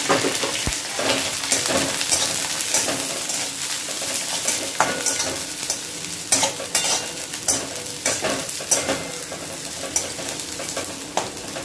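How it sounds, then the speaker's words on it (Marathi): Cabbage and spring onion stir-frying on high flame for veg hakka noodles, a loud continuous sizzle broken by repeated scrapes and clatters of a spatula against the pan. "गॅसची फ्लेम आपल्याला हाय ठेवायची आहे आणि त्यात मी घालत आहे अर्धा पत्ता कोबी आपण यात घालत आहे."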